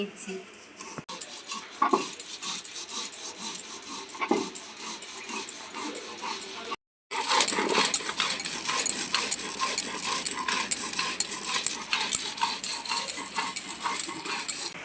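Stone grinding slab (shil nora) crushing poppy seed and green chilli paste, a steady scraping, rubbing rhythm with clinks, fairly close, with a short break midway and brighter, louder grinding after it.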